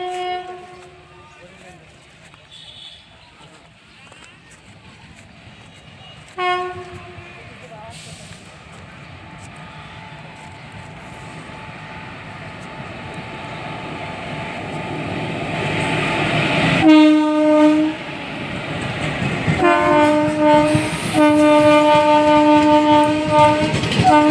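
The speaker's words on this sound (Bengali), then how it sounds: "এক্ষুনি ট্রেন আসছে, ওই যে দেখো চলে এলো।" A train approaches and passes on the railway, its horn sounding in repeated blasts while the rumble and clatter of the cars grow louder and nearer; a person talks over it.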